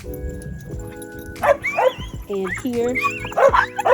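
Neighbouring dogs next door bark and yip repeatedly in several overlapping bursts, heard from a garden, while a person speaks briefly over the noise.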